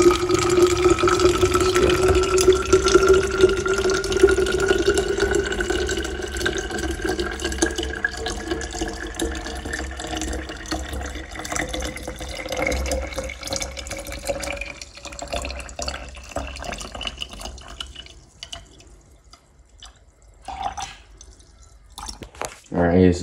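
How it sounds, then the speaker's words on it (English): Tap water runs into a bottle holding sugar, the pour steady and close with a pitch that climbs as the bottle fills, then trails off into a few drips and light handling clatter. "just fill it up with some water."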